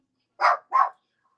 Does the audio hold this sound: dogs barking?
yes